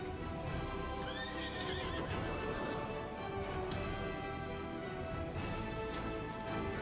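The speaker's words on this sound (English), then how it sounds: "Let's get on my horse." A horse in World of Warcraft neighs and whinnies while its hooves clip-clop in a steady rhythm, loud and close, over a dense game soundscape with no talking.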